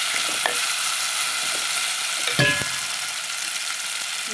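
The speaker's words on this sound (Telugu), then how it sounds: "పచ్చి వాసన పోయిన దాకా వేపాలండి మసాలా దాంట్లోనే" Masala frying in a pan with a continuous bright sizzle and occasional stirring scrapes and clinks, for a ridge gourd and prawn curry.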